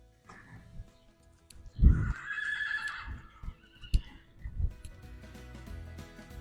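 A police horse whinnies loudly in a stable yard, one long shrill neigh followed by snorts and a few scattered hoof knocks, with no talking.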